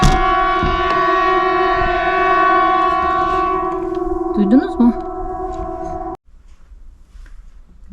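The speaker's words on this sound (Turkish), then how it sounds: "Sirenler hala çalıyor bu arada." A civil defense siren in Norway holds a steady, loud, droning tone, then cuts off abruptly; a person speaks briefly over it.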